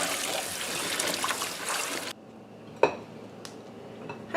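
Green beans being rinsed with water in a bowl in a home kitchen: a steady rush of running water that cuts off abruptly, then a couple of sharp clinks and knocks of the bowl, close by with no talk.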